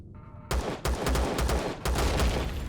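Gunfire at a turret in Empyrion Galactic Survival, a loud close weapon firing repeated sharp bursts of rapid shots with short gaps, after a brief low hum.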